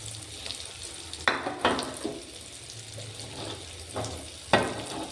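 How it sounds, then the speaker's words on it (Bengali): Baby corn frying in a pan, a soft steady sizzle broken by a few sharp clatters of stirring against the pan, fairly quiet with no talking. "আমি এগুলো ভালো করে ভেজে নিই তারপর"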